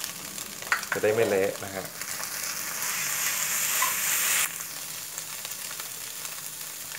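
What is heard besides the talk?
crab being stir-fried in a wok with curry powder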